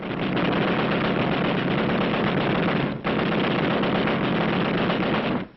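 Sustained machine-gun fire from Marines of the 6th Marine Division on Okinawa in 1945, a dense, loud continuous burst lasting several seconds with only a split-second break midway, recorded with the rough, band-limited quality of wartime film sound.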